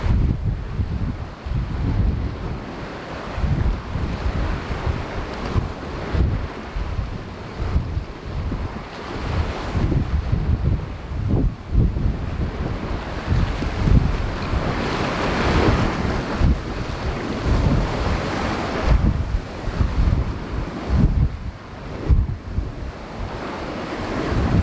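Wind and waves at sea aboard a racing sailing yacht, a Bavaria 55 or Beneteau 49, with constant loud wind buffeting the microphone over rolling, surging water close by.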